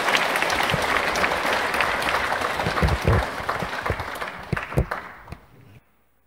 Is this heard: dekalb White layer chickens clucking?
no